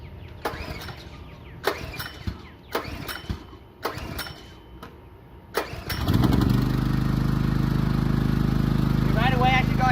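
A Generac One Wash power washer engine is pulled several times with sharp rhythmic cranking bursts, then catches and settles into a loud, steady close-up running roar.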